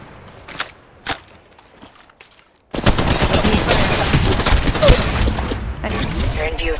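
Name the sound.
machine gun fire in the video game Apex Legends Mobile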